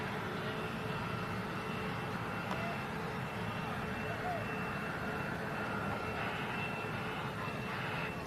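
An Airbus A330 heavy jet on final approach landing at Manchester Airport, a loud continuous engine roar that holds steady throughout at moderate distance.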